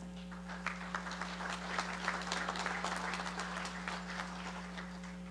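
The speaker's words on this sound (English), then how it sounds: "Please give a nice round of applause to our Silver Brigade recruiters." A convention audience claps in a sustained, dense ripple of applause at moderate volume over a steady low electrical hum, with no talk.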